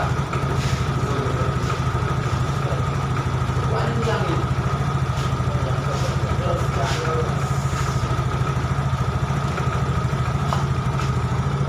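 Yamaha Mio J scooter engine idling, a steady low putter with even rapid pulses running throughout at close range, with faint scattered clicks and handling noises over it.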